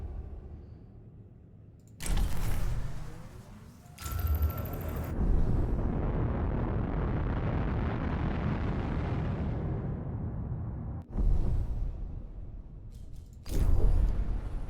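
Spaceship explosions in the game FTL: loud, broad bursting rumbles that begin abruptly around two and four seconds, swell into a sustained roar, then strike again near eleven and fourteen seconds.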